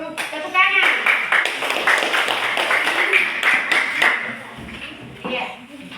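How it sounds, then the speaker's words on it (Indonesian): A group of students in a classroom claps together in a quick, rhythmic burst of close, bright hand claps, with voices talking over them throughout. "Tepuk tangan."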